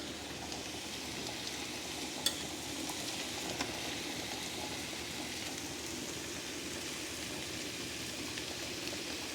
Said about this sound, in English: Got that cabbage nice and sauteed away